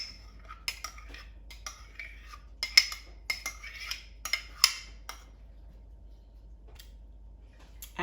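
A utensil scrapes and clinks against a bowl while potato salad is stirred with mayonnaise and honey mustard, light irregular taps close by, then quiet.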